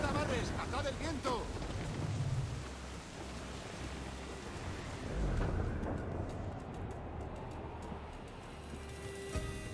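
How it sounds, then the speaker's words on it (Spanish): Steady heavy rain and low rumbling storm noise from a thunderstorm at sea in the video game Assassin's Creed IV, a continuous wash of downpour with deep swells, while someone talks over it at times. "La puta tormenta, ¿cuánto va a durar?"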